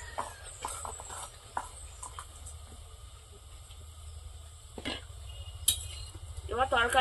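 A spoon clinks and scrapes against a pan as cumin paste is stirred into a fish curry with fried small fish and chili powder, with sparse metallic knocks over a low background hum.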